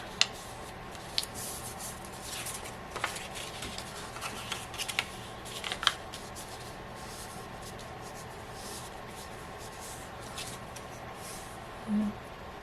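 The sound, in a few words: folding paper sides of a coin envelope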